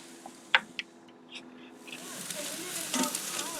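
Pork chops cook on a Big Green Egg grill: a few faint clicks and taps, then a soft, steady sizzle that swells and hisses quietly on its own.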